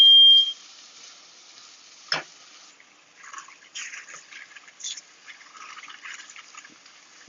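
Rice toasts in a pan for risotto while being stirred, giving faint, intermittent scraping and light sizzling after a short beep and a sharp clack near the start.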